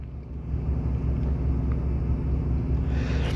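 A semi truck tractor idles and rumbles while backing a trailer, a steady low engine drone holding close and loud throughout with a faint rise at the end.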